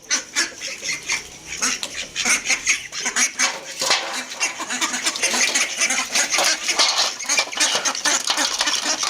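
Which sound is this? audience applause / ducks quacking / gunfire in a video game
ducks quacking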